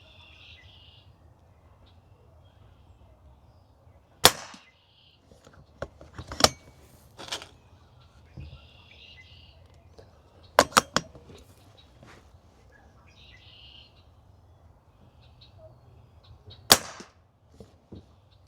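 A Pinty NightFall GEN2 air rifle fires slugs in sharp, isolated cracks, a few single shots and a quick double spaced across a quiet outdoor scene with faint chirps in the background.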